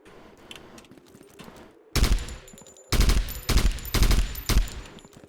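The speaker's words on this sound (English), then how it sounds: "this gun does sound really good, though" Several loud, punchy bursts of gunfire from a video game weapon ring out over quiet background game noise, coming in separate heavy volleys about half a second to a second apart.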